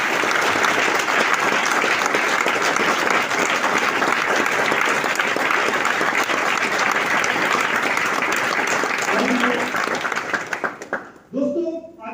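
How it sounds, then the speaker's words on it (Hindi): An audience at a business workshop gives loud, sustained applause for target achievers and leaders. It holds steady for about ten seconds, then trails off, and a voice begins speaking at the very end. "हमारे लीडर्स के लिए एक बार सबसे पहले तो जोरदार ताली होना चाहिए"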